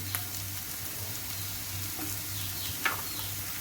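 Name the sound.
tomato paste sizzling in a pan with garlic, shakshuka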